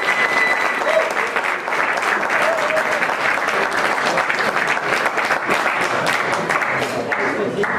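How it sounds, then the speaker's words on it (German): Sustained applause at a football press conference after the Aalen versus Homburg match, a thick, even wash of many hands clapping at once with a few voices faintly mixed in throughout. "Deswegen gilt nochmal ein Applaus an die Herrschaften,"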